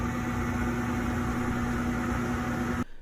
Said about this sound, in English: we have this fun sound of a bathroom fan